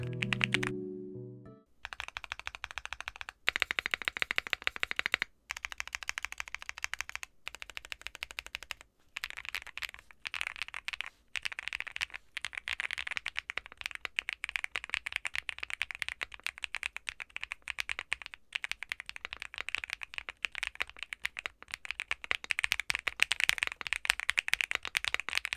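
Steady, brisk typing on a Weikav Sugar65 aluminum keyboard fitted with pre-lubed Akko switches, with dense, close-up keystrokes clattering continuously and only brief pauses, alone with no voices.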